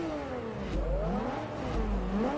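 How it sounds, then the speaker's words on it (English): A Nissan Skyline in the Forza Motorsport 3 racing game revs hard, its engine tone climbing and dropping through gear changes in a sustained, close drone with no talk over it. "that engine noise is nice"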